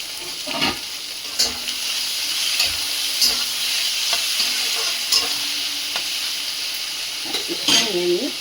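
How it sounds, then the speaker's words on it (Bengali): Prawns sizzle and fry in a pan, with a steady hiss and intermittent scraping, clinking stirs throughout. "চিংড়ি মাছগুলো দিয়ে দেবেন"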